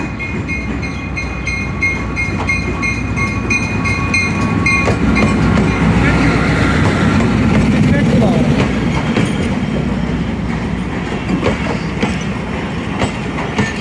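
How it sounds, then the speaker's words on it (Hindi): The 8 Down Tezgam Express rolls along the rails near Gujrat railway station in Pakistan, a loud continuous rumble and clatter of wheels with some faint high tones and background voices. "8 डाउन तेज़गाम एक्सप्रेस अराइवल कर रही है गुजरात रेलवे स्टेशन।"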